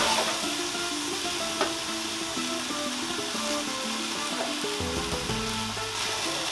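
Sautéed mushrooms sizzling in a pan as marsala wine is added, a steady close crackle and hiss that shifts as the liquid hits the hot pan, with no talking.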